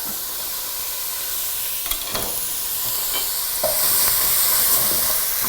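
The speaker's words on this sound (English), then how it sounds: "I'm gonna put this in the pot with the carrot and onion. And we're gonna cook it up." Ginger with carrot and onion cooking in a pot gives a steady, close sizzle and hiss, with a few clinks and stirring scrapes and the frying growing louder toward the end.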